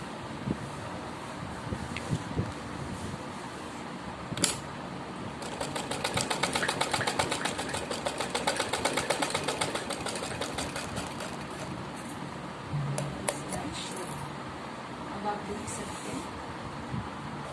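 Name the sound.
sewing machine stitching a straight seam on a suit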